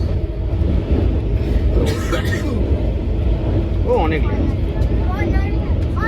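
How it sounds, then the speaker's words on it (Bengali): The Himgiri Express pulls into Jammu Tawi station with a loud, constant low rumble of the moving train, while voices chatter faintly over it now and then. "ট্রেনটা জম্মু তাওয়াই ঢুকবে"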